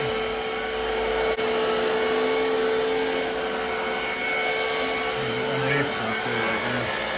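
A Black & Decker Powerseries+ cordless stick vacuum cleaner runs with a steady, loud high-pitched whine and hum, close by, shifting slightly in pitch near the end, with a voice briefly heard.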